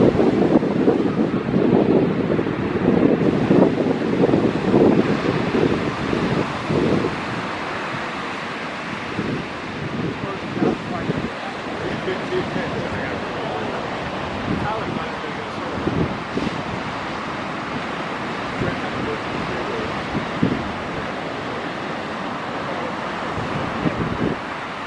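Strong wind buffets the microphone on a beach, a continuous roaring rush with gusty swells that is loudest early on and eases slightly later, with the surf faintly mixed in.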